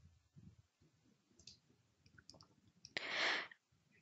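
A mouse click on a download link lands as a single sharp tick, followed by a short, brighter burst of clicking close to the microphone against a quiet, faintly rustling background.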